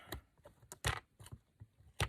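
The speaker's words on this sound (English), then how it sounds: "So I'm just going to take my scissors down the side of it." Scissors cut down the edge of a paper label for a watercolour lap book, producing a series of sharp, close snips and clicks spaced irregularly, with the quieter handling noise of paper between them.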